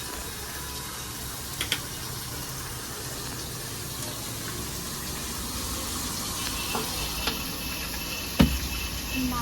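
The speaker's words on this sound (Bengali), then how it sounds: "মাছ ভাজা হচ্ছে" Tilapia fish frying in hot oil in a home kitchen, a steady broadband sizzle and hiss with a few faint clicks and a sharper clatter near the end.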